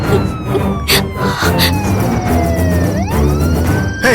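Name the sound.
police car siren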